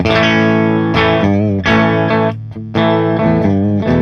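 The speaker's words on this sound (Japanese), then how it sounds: "マーシャルのクリーンにつないでそれを録音しています" Electric guitar through a Marshall amp's clean channel, chords ringing out loud and close, several sustained strums separated by brief pauses, with no talking.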